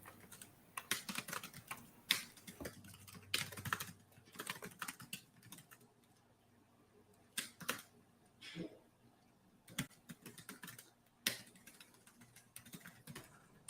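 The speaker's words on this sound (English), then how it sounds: "the typing is part of the timer" Steady typing on a computer keyboard during a quiet writing sprint, irregular bursts of close key clatter with short pauses, playing alone at low volume.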